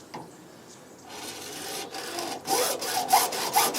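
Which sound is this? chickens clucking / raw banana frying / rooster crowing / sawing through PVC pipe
sawing through PVC pipe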